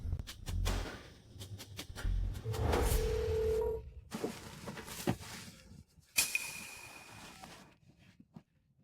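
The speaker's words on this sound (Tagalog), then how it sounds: "Ngayon din tatawagan ko si Dulay" A telephone being dialed in a drama scene, with a quick series of short tones and clicks, a sustained tone, then a louder ring-like burst, all fairly close with no talk over it.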